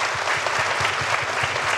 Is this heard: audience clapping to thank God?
yes